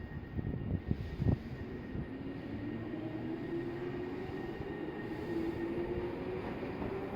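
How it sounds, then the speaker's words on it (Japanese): A Tobu 8000 series train of set 8183F on the Tojo Line pulls out as an out-of-service run. A few clanks open a steady rail rumble, and a rising motor whine builds as it gains speed. The sound is fairly distant, with no voices. "回送電車が発車します。"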